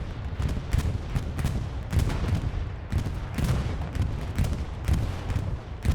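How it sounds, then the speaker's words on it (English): Bombing-run explosions in Hell Let Loose on the Utah Beach map, a dense run of heavy booms and rumbling blasts rolling one after another for several seconds, loud and continuous, with no voices. "Bombing run coming in."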